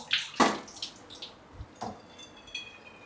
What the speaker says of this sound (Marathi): आता पहिले कैरी धुवून घेऊयात परत धुवून घेऊयात